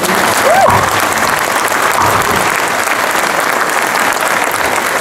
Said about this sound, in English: we'll have a minute of applause